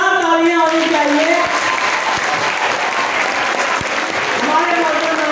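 Loud, continuous crowd applause at a school prize distribution ceremony, filling the whole stretch while a voice briefly rises over it near the start.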